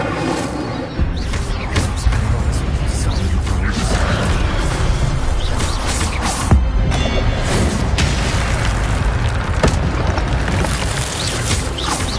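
Incendio fire spell blasts in Hogwarts Legacy: dense, loud booming bursts and crackling impacts run continuously, with a few sharper hits standing out above the roar.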